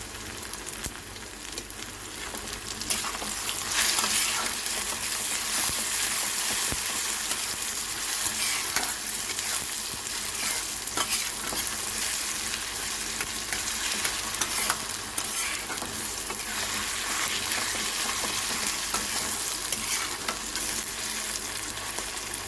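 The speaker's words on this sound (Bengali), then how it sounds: "টমেটো আর পেঁয়াজ ভাজা হচ্ছে" Tomatoes and onions fry in a pan for a fish curry, a steady close sizzle with frequent scraping and stirring clicks throughout, no voices.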